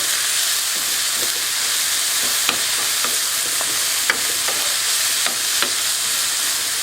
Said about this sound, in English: You want to saute these garlic for just probably about 5 or 7 minutes until you get translucent.